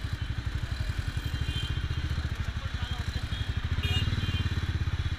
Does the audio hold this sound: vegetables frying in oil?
no